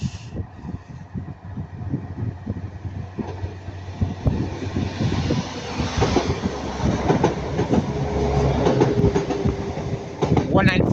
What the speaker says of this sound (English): We've got Northern Class 195 going to Manchester Piccadilly.